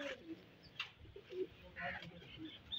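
Pigeons on a rooftop coo in soft, irregular low burbles, faint and close, mixed with a few higher chirps amid light background voices.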